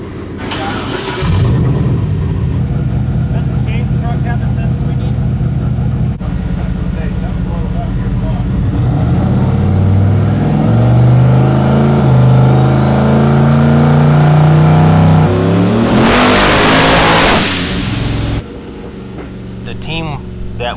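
A car engine revs hard on a dyno in a tuning shop, a loud sustained roar climbing and swelling over about twenty seconds before cutting off abruptly, with some voice faintly underneath.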